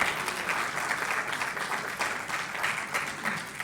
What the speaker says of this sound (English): I thought the women would clap for that.